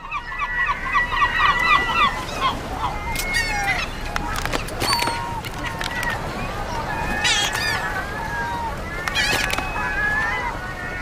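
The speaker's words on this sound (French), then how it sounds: "Les mouettes investissent les bateaux de pêche à la recherche de nourriture." Gulls crying around fishing boats in fog, repeated harsh calls rising and falling over a constant noisy harbor background, some near and loud, others farther off.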